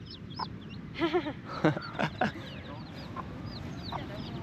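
Chickens cluck and squawk close by in a farmyard, a series of short bursty calls over a rustling background, with people talking over them.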